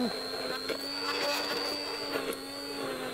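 A kitchen blender steadily purees Caesar salad dressing until smooth, giving a loud continuous motor whine with a constant high-pitched tone and no breaks across the whole stretch.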